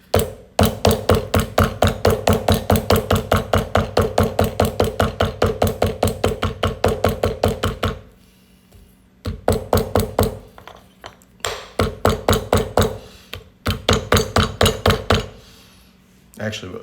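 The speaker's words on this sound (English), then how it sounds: "I'm going to get a polished shoemaker's hammer" A polished shoemaker's hammer taps on glass in long fast runs of sharp, ringing metallic strikes, loud and close, with brief pauses between bursts.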